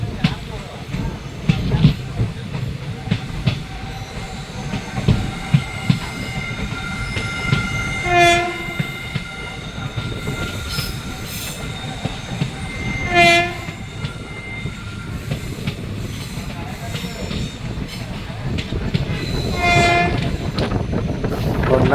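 The Madurai-Guruvayoor Express rolls along the Tenkasi-Kottarakkara line with a steady rumbling roar of wheels, while its horn sounds loudly three times, with short blasts spread across the run.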